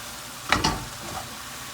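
Mushrooms and onions sizzle in a pan as two quick, close bursts of frying crackle out, then fade to a soft, steady hiss.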